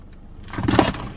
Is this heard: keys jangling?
yes